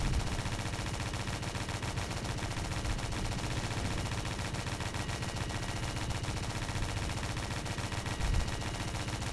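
Continuous video game gunfire in a chemical plant battle: dense, steady rattling bursts of automatic weapons fill the whole stretch at an even, loud level, with no talking.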